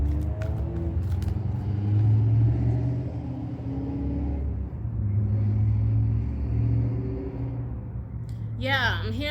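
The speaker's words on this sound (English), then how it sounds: "I'm hearing like a sports car nearby" A sports car rumbles nearby as a steady low engine drone that swells slightly and fades, heard faintly beneath continuous talking.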